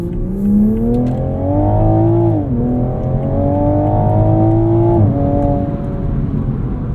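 A 2022 Toyota Supra engine pulling hard in drive, loud and close, rising in pitch through the revs with two brief dips at gear shifts before climbing again.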